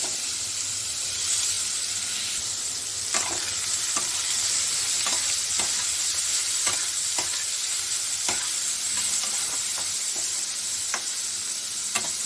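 Pointed gourd pieces fry with a cumin tempering in a pan, giving a loud, constant hissing sizzle throughout, punctuated by irregular sharp clicks of stirring, with no voices.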